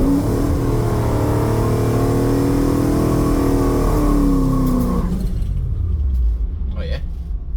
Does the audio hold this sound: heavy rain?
no